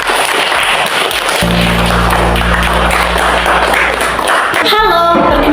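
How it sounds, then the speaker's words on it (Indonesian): A crowd applauding at a school gathering, a dense steady wash of clapping with a sustained low tone running under it. "Ya, kita beri aplaus dulu untuk semua."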